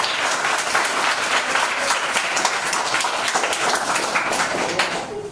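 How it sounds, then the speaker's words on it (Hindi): Audience applause for two children at a Smile Foundation event with a stand-up comedian, steady dense clapping from a crowd that holds loud and even throughout, with no talk over it. "दोनों के लिए जोरदार तालियां बजाओ"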